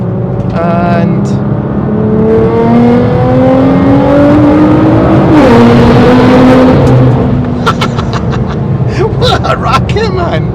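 Nissan GTR with 640bhp on air ride, engine note rising and falling through gears as it accelerates, a loud, close drone with road noise from inside the car and brief crackles near the end.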